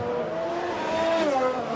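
Max Verstappen's Formula 1 car powers out of a corner at Monza during qualifying, its engine note rising and whining steadily over a couple of seconds, heard from nearby.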